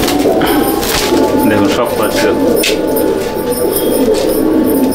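Pigeons kept by a fancier coo low and continuously nearby, while someone talks over them and occasional sharp knocks and rustles sound in the loft.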